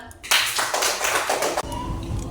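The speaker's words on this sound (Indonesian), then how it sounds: "Bagus, tepuk tangan ya." Schoolchildren in a classroom clapping, a burst of quick close-up claps that starts abruptly and stops just as suddenly, followed by quieter room noise.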